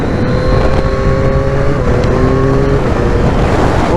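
A Yamaha MT-09 Y-AMT motorcycle engine downshifting to third gear, loud and close, with shifting engine tones and wind rush that continue throughout.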